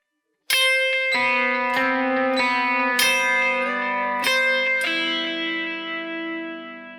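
A single guitar bar played with finger pull-offs in a Gothic picking style, notes snapped off one after another in a clear sequence, ringing with effects and sustain before fading, no talk.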